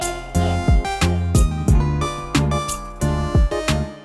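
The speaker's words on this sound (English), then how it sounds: "Down an octave would sound like this." A GarageBand software instrument transposed down an octave plays a repeating pattern of deep, resonant notes in a steady pulse with strong low bass and bright attacks, loud and close with no voice.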